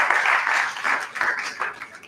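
Clapping from attendees at an institute's annual in-house research review and planning meeting, a short burst of fairly close applause that rises and fades unevenly over about two seconds.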